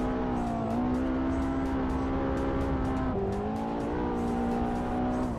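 A Ferrari drifting in the racing game Assetto Corsa holds a sustained, buzzing engine note that dips and climbs with gear and throttle changes, loud and continuous, with faint tire squeal and no speech.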